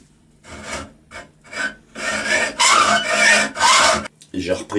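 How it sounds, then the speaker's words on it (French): A bastard file is worked by hand over a metal part of a solar thermal panel valve, giving rough rasping strokes that start short and spaced, then grow longer and louder, close up and with no talk. "J'ai repris ça à la lime bâtarde en essayant de m'approcher au mieux de mon trait et en restant plan."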